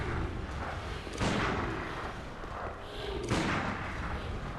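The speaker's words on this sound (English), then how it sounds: "Just gonna shoot this guy" Two heavy gunshots from the video game Bloodborne ring out a couple of seconds apart, each a deep booming thud with a rumbling tail over ongoing game ambience.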